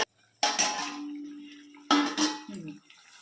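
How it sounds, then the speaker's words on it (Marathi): Water splashes from a vessel into a pan of garden-grown eggplants for bharit, two distinct bursts of hissing splash and clinking metal separated by a quieter spell, close by with no talk. "त्याचं पाणी वरती तिथे ओतायचं आपण"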